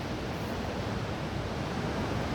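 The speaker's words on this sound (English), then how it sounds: "You might be able to hear the waves" Ocean waves break on a beach in a steady, dense wash of surf that holds at an even level throughout, with no voices.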